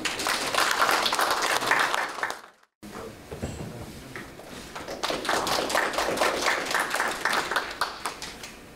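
Applause at an academic symposium marking the centenary of the declaration of the independence war, held in a small hall, as the speaker comes up for the opening address. Fairly close, distinct claps from a modest crowd break off briefly, then resume and keep going.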